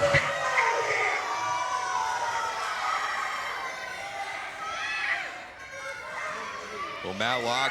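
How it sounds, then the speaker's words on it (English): A crowd at a wrestling match cheers and shouts steadily throughout, a dense, fairly distant roar of voices with an announcer talking over it. "They're cheering him on."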